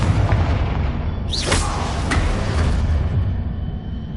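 Confringo fire spell blasting in the Hogwarts Legacy video game, a broad roaring boom with a whooshing burst rising over dense game ambience, loud and sustained.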